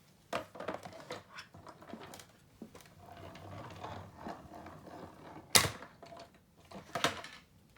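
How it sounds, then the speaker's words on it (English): A die cutting and embossing machine presses cardstock under an embossing plate, giving a series of soft mechanical creaks, clicks and grinding rolls, with a sharp clack near the end; quiet and close, with no talking. "place the number 4 embossing plate on top of that and run this through my machine"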